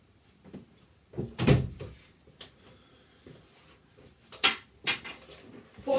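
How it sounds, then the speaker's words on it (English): A door is pushed shut during a bathroom rip-out, giving one solid close thump followed by lighter knocks and clatter from the room, fairly close and without talk. "make sure you shut the door."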